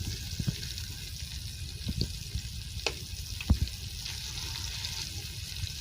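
Gola kabab frying in a pan, a steady low sizzle with occasional soft pops and light clinks as the pieces are turned, close and fairly quiet, with no talking.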